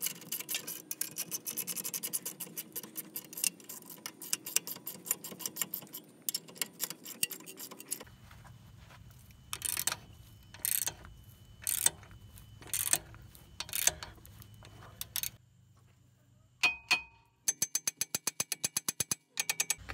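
Wrench cranking a hardened bolt to press out a stuck wheel bearing, quiet close ratcheting clicks and scrapes in uneven bursts, with faint rumbling and short pauses between strokes.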